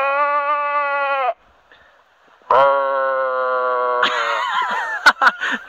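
A voice gives several drawn-out, wavering bleats in imitation of a sheep, separated by short pauses, loud and close.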